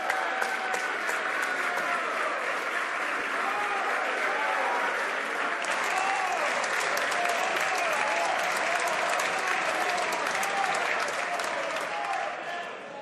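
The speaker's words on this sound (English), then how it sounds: "I've asked members before to hold off on their applause until the members finish putting the question." Sustained applause fills a House of Commons parliament chamber, many hands clapping densely and loudly for the whole stretch, with a brief surge midway and no clear speech over it.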